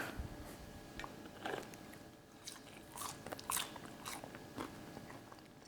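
Close, quiet crunching and chewing while eating a McDonald's McChicken burger and fries, with irregular bites and soft mouth sounds over several seconds and no talking.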